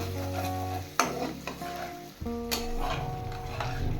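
Turmeric, salt and Kashmiri chili powder being stirred into onions frying in a pan while making chicken maharani, a steady sizzle under scraping strokes with a few sharper clinks of the spoon against the pan.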